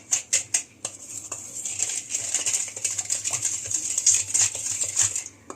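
Donut batter with vanilla essence is stirred in a bowl, giving a close, rapid patter of spoon or whisk taps and scrapes, busiest toward the end, with no talking.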